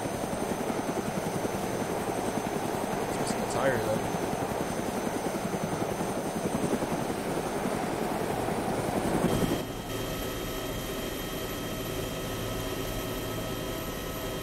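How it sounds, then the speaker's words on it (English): A helicopter in the video game DayZ gives a steady, loud rotor and engine drone that runs the whole way through, with a brief voice heard over it. "I find it difficult to balance out the helicopter."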